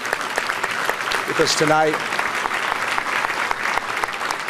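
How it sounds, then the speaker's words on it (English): An audience at an annual coaching clinic applauds honored coaches with steady, moderately loud clapping, while someone briefly speaks over it partway through. "Please give them all a round of applause"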